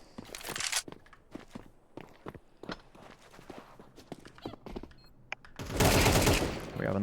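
Rapid bursts of automatic gunfire from a Counter-Strike 2 tournament match, a run of sharp shots spaced through the middle, then a loud sustained burst near the end, fairly close and with no voices.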